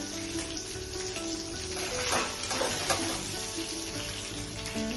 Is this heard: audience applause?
no